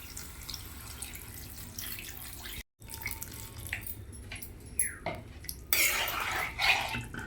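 Water runs and splashes into a metal pot of mushroom and potato curry, with clinks of cookware and a brief pause, ending in a louder gush of pouring.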